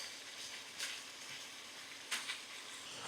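Ground beef sizzles in a hot skillet with a steady, faint frying hiss, broken by a few sharper crackles and pops.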